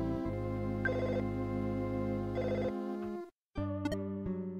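A telephone rings in a video game, a steady electronic ringtone in two long bursts that stop, then after a short silence a brighter chiming jingle, close and clear with no talk.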